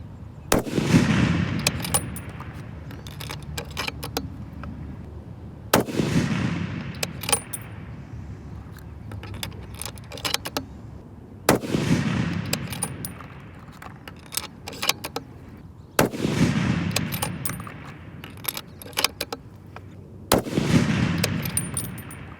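Five long-range rifle shots with Berger 180gr and 184gr loads crack out at a 1000-yard range, spaced about five seconds apart. Each sharp report trails off in a rumbling echo outdoors.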